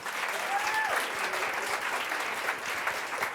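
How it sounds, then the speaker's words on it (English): An audience at a welcome and introduction event gives a full round of applause, steady dense clapping throughout with faint crowd murmur and a brief whoop or whistle near the start. "can we do a massive round of applause for the men in the room?"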